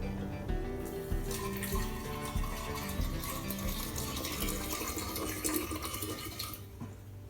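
Hot water poured steadily into a container of sugar while starting a new batch of sugar water for water kefir, a continuous close splashing and trickling stream for several seconds, no talking.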